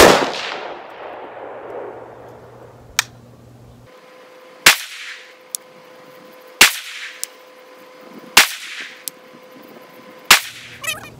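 Rifle shots with full metal jacket range ammunition at a shooting range, five or six sharp loud cracks spaced a couple of seconds apart, each with a short ringing decay, plus fainter metallic clicks between them.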